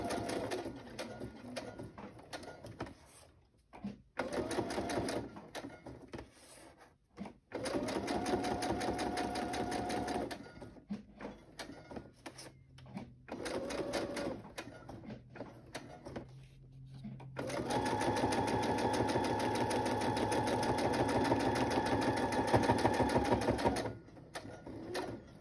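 A sewing machine stitches fabric in a steady whirring chatter, running in several long bursts with brief stops between, fairly close and unaccompanied by talk.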